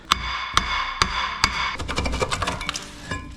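A worn brake rotor is knocked off a Sterling 10.5 rear axle on a 1999-2004 Ford F350 Super Duty: four evenly spaced hard metallic hammer blows, then a quick flurry of clanks and rattles as the part loosens.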